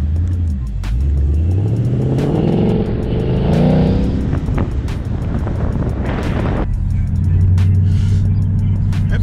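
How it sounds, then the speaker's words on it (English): A 2016 Ford Mustang GT V8 being driven, its steady engine drone rising and falling with throttle changes, heard from inside the cabin with road and wind noise, no talking. "It feels good to be driving this car."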